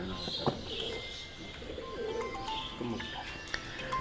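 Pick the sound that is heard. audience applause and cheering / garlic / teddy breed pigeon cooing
teddy breed pigeon cooing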